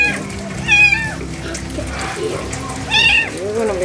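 A kitten being given a flea treatment meows loudly twice, close up, over running water from a tap or sink and faint background voices.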